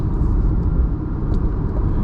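A C8 Corvette Stingray sports car engine with its stock exhaust rumbles steadily at a low idle, a deep continuous drone close by with no other sounds.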